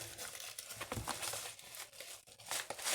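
Opening a plastic parcel package up close yields quiet crinkling and tearing rustles in irregular bursts, with no talking.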